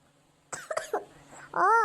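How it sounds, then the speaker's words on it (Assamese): A woman gives a couple of short, close coughs, followed by the start of her speaking. "বৰকে কাহি আছে দেখোন হয়?"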